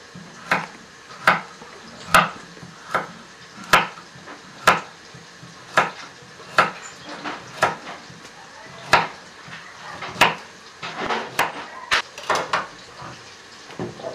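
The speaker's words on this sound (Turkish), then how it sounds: "Doğradığım havuçlarımı yapıyorum." Steady knife chops through carrots on a cutting board, sharp knocks repeating in a loose rhythm, close and fairly crisp, with faint kitchen background.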